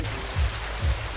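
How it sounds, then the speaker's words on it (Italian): Rain falling outside in a cartoon, a dense, steady hiss of drops with two soft low thuds, heard alone without talking. "piove! Mi bagnerò tutta!"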